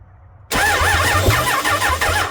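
A Dodge Dakota with a swapped Magnum engine bursts into life after a brief hush, then runs loud and rough with an uneven, wavering idle.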